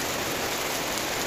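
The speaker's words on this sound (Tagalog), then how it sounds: "Lakas ng ulan dito guys oh." Heavy rain pours steadily at a beach, a dense, loud, continuous hiss with no pauses and no voices.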